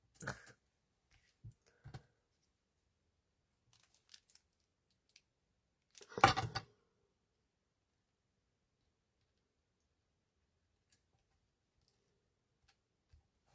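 Scissors snip through card in a quiet room, a few sparse crisp cuts followed by one longer rustling, crunchy trim, then near silence with a faint final click.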